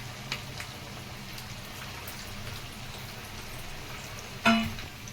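Bottle gourd garelu (sorakaya vadas) fry in oil with a soft, steady sizzle and fine crackle, quiet and close, with one brief sharper clink near the end and no voices.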